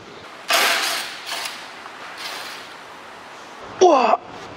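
A wrench working loose a bolt during repair on a 2005 Hyundai Grandeur TG: a few scraping, ratcheting bursts with pauses between, ending in a short metallic creak and squeak close by.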